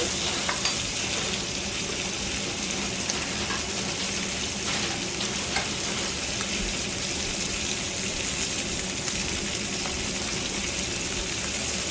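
Large ribeye steaks searing in butter with garlic and thyme, giving a dense, continuous sizzle and crackle from the hot pan, close and even throughout with no speech.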